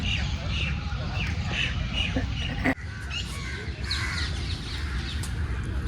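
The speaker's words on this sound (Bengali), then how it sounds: "পাখির আওয়াজ তোমরা শুনতে পাচ্ছ?" Crows caw repeatedly among other birdsong in a large Delhi park during morning walks. The harsh calls arrive in short bursts at mid distance over outdoor ambience, with people's voices faintly present.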